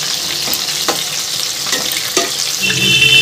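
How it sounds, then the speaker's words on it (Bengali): Chicken pakoras fry in hot oil with a loud, steady sizzle and bubbling, broken by a few sharp stirring scrapes, heard close and alone. "পকোড়াগুলো সব ভাজা হয়ে গেছে বন্ধুরা,"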